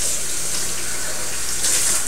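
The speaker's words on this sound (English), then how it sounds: "Give her a good rinse." A cooking pan rinsed under a running sink tap, a loud steady gush of water that swells briefly near the end, with no voices.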